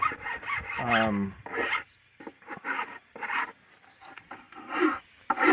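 A hand file scraping across an old varnished wooden stair tread makes a series of irregular rasping strokes, some short and some longer, separated by brief pauses.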